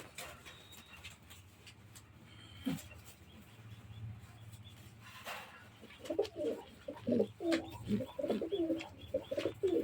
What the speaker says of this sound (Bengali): এবার আমি কবুতরটা নিয়ে আসি।